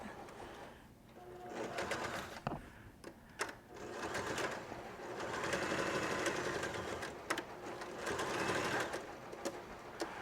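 A sewing machine stitches shut potato bags in quick, steady bursts with brief pauses between seams, running loud and near.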